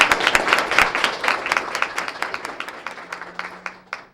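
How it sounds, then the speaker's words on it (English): Audience applause at a high school student-of-the-month award ceremony, a steady wave of many hands clapping in an indoor hall that thins out toward the end. "Let's give you a great round of applause."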